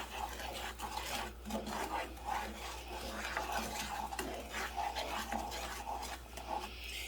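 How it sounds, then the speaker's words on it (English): A spoon stirring white granulated sugar into a pot of melted butter and yams, giving soft rhythmic scraping and rubbing that is close but quiet over a low steady hum. "Give this a nice little stir."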